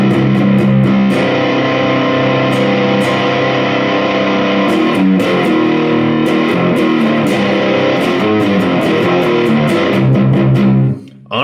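Electric guitar played through a JHS Bender fuzz pedal set with low attack and high tone, loud thick distorted chords ringing and sustaining continuously, with several rhythmic strums before cutting off abruptly at the end.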